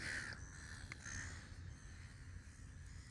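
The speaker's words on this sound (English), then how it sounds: "the seagulls have arced up again this morning" Seagulls calling at Sydney Harbour at sunrise: faint, harsh squawks from a distance, a few close together near the start, over quiet background noise.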